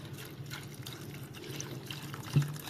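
Water is poured over jaggery to dissolve it, a faint, steady trickle and dribble of liquid close by, ending in a small splash.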